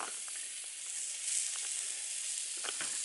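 Onions frying on a flat-top griddle for a Philly cheesesteak, a steady bright sizzle that holds throughout, with a few faint clicks and taps of utensils nearby.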